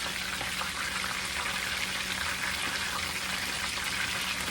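Margarine melting in a hot pan while making hot wings, a steady, even sizzle and crackle heard close and alone, holding at a constant level throughout.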